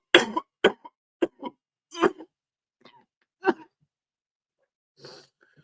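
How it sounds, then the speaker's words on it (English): A man's coughing fit of several harsh, throaty bursts in quick succession, close and fairly loud, followed by fainter throat-clearing and a rough breath after a short pause. "Before I start coughing again"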